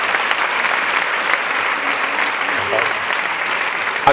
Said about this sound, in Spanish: le pido un aplauso para todos